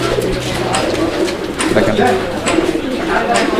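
Pigeons cooing softly in a coop, a few short low calls under a man's nearby speech.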